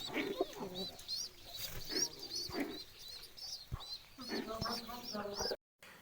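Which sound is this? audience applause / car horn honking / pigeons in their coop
pigeons in their coop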